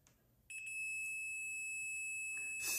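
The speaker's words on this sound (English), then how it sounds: "Switching this to the continuity option on the Fluke multimeter, it'll beep and show the resistance between the red lead and the black lead." A Fluke multimeter on its continuity setting gives a steady, near, high-pitched continuity beep that starts about half a second in and holds with no break. It ends in a short burst of broadband noise.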